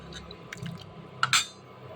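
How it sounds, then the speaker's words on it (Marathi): A glass of water is poured into a green cowpea curry, with brief splashing and a couple of close liquid drips and trickles over faint background noise. "साधारण 1 ग्लास इतके पाणी सुद्धा तुम्ही घालू शकता"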